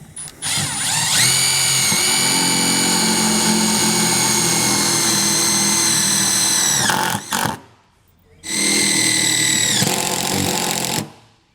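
A power drill drives Phillips head screws into a plastic housing for an AC port plug with extension cord, whining loudly and steadily for about seven seconds, pausing briefly, then running again for a few more seconds.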